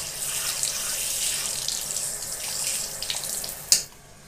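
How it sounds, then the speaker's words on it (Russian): Warm water runs steadily from a tap into a sink at a country house, a constant hissing flow that ends with a brief splash and then cuts off. "хотя бы идет нормальная такая вода теплая"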